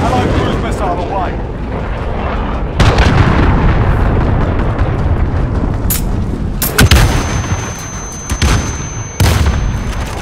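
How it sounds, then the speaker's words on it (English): Cruise missile strikes in Modern Warfare on the Crash map hammer down as a string of loud, close explosions and heavy booms, some sharp blasts stacked over a rumbling, crackling battle din. "Hello, cruise missile away."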